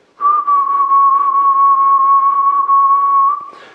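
A single sustained whistled tone with a gentle vibrato that holds steady for about three seconds, loud and close, then stops abruptly.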